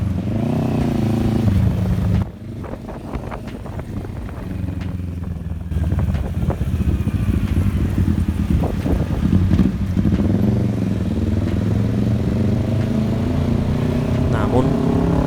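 Kawasaki Vulcan S 650 parallel-twin cruiser with a short silencer exhaust idles and revs steadily, a deep throbbing engine note filling the scene close by, with a brief dip before it picks back up.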